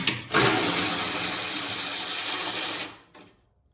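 A 10 mm socket wrench on a 4-inch extension works a bolt loose on a John Deere lawn tractor, a loud, sustained grinding rattle close by for about two and a half seconds before it cuts off.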